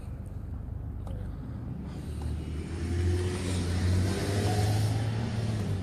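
A car engine hums low and steady, then builds as the car accelerates, growing into a fuller, louder drone near the end.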